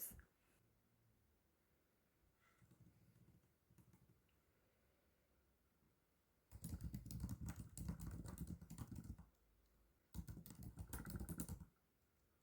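Computer keyboard typing while writing a draft comes in two close bursts of quick, dense key clicks separated by quiet pauses, after a few faint taps earlier, with no talking.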